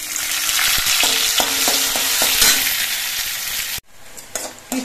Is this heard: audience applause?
no